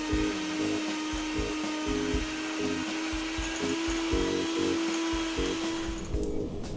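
Electric stand or hand mixer creaming vegan butter with granulated sugar for vanilla cupcakes, a steady motor whine with a rhythmic pulsing thump as the beaters work, running loud and continuous without speech.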